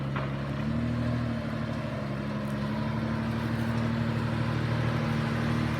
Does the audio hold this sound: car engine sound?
yes